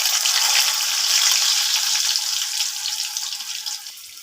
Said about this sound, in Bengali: কড়াইয়ের মধ্যে আমি আলুগুলো দিয়ে দিলাম, আলুগুলো একটু লাল লাল করে ভেজে নেব।